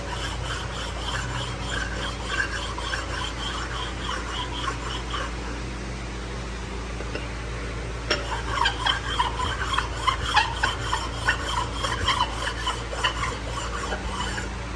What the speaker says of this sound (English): So, hone it with that, cross stroking it, get a nice little perfect flat crosshatch pattern.